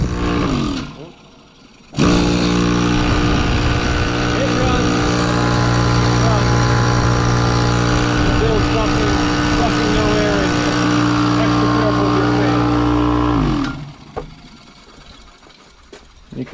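A faulty air compressor that builds no pressure switches on and runs for about eleven seconds. Its motor and piston drone loudly and steadily against no resistance, then it stops abruptly.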